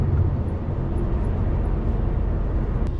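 Rush hour road traffic in Birmingham, heard from inside a moving vehicle as a constant loud, low road rumble and drone that holds steady throughout with no talk.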